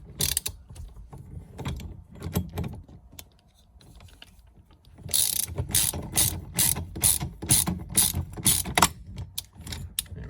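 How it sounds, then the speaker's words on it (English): Ratchet tightening a steering column bolt on a Porsche Boxster 988, heard as close, crisp clicking strokes: a few scattered bursts first, then a quiet gap, then a steady run of loud rhythmic clicks. "now we got to snug it up and then tighten it, torque it down to 45 Newton meters"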